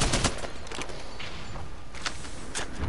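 Rapid bursts of gunfire in the battle royale shooter Apex Legends, a few sharp clusters of shots loud and close over a steady game background, with no talk.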